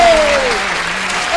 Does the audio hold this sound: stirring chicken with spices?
no